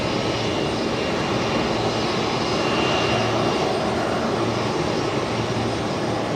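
A passenger plane arriving from Canberra touches down on runway 01 at Brisbane Airport, a loud, steady roar of aircraft engine noise that holds constant throughout with no voices.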